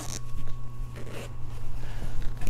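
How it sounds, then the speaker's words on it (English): A seat cushion cover's zipper is drawn open in short, scratchy bursts, close by and fairly soft, with a low hum underneath. "and then you unzip it"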